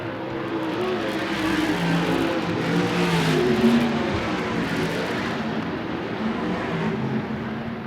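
A USAC/CRA sprint car engine at a Phoenix race, a continuous loud roaring drone that swells and fades slightly as the car works through the turns, with no other sound standing out.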